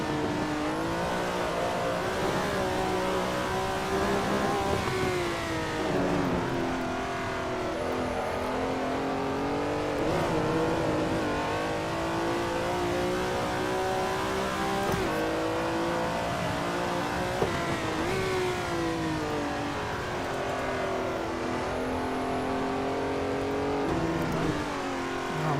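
A Ferrari Daytona race car in a video game, lapping Road Atlanta: a loud, continuous engine note that rises and falls through gear changes and revs, with occasional tire noise, close and steady throughout.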